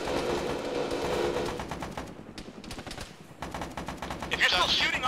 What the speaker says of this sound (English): If you're still shooting on that island, you are doing it wrong.